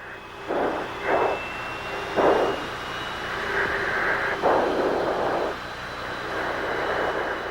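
Military aircraft flying over a stalled convoy during the Gulf War, a loud sustained engine roar with several swelling bursts, heard alone without talk.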